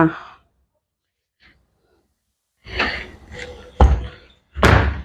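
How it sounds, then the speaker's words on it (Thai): A kitchen door is shut, with a brief rustle followed by a couple of solid thuds and a final louder knock, close by and without talk. "เดี๋ยวปิดประตูก่อน ประตูครัว"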